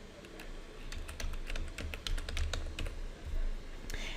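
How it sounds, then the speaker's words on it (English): Rapid typing on a computer keyboard while entering a search term, a steady run of close, crisp key clicks with short uneven pauses between bursts. "So I'm going to type in adolescents."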